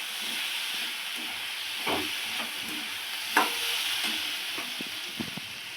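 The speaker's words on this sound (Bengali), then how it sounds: "একটু নেড়ে ছেড়ে নেব তাহলে ডালটা একটু অল্প অল্প ভাজা হয়ে যাবে" Lentils sizzle steadily in a hot pan while a utensil scrapes and stirs them with occasional clinks, close by and fairly quiet.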